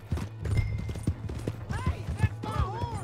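Horse hooves clip-clop at a steady trotting pace in the video game Red Dead Redemption 2, close and clear, while voices talk over them and a horse whinnies briefly.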